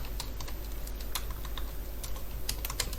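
Rapid typing on a computer keyboard while writing Android app layout code, with a steady stream of close, crisp key clicks over a low background hum.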